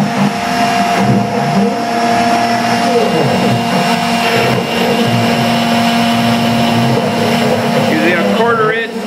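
A CNC machine mills a project with a straight mill bit, producing a loud, continuous whining motor drone that stays steady throughout, close by.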